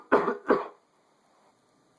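Two sharp coughs from a man, close and loud, one right after the other, followed by near silence.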